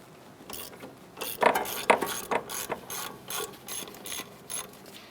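Ratchet clicking in uneven bursts while loosening the 14mm clevis bolt that clamps the strut into the fork on a 2004-2008 Acura TL, close and moderately loud with no voices.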